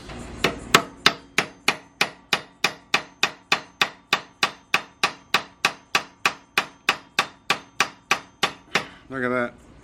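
Hammer pounds on a trike's rear axle to drive out a bearing, about two dozen sharp metallic blows in a fast, steady rhythm, close and ringing, followed at the end by a brief scraping rub.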